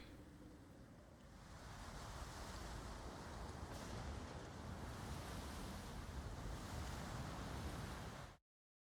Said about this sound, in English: Well, we got some winds and some waves, guys